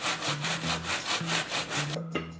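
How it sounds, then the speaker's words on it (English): Frozen homemade ice cream grated with a hand grater: steady rhythmic rasping strokes, about eight back-and-forth passes, close and loud, ending with a brief clunk. "Get yourself a grater and start grating."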